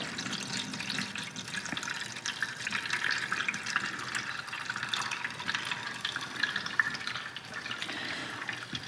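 Steady running water pours and splashes continuously as it drains out of a still used for distilling white sage, a close, even gush like liquid draining from a tap, with no voices.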